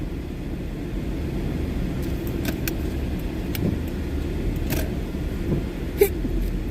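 Steady road traffic heard from inside a car on an afternoon drive, a continuous low rumble of engines and tyres with a few faint clicks and a brief knock near the end, no talking.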